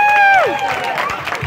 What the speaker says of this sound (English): Can we give another round of applause?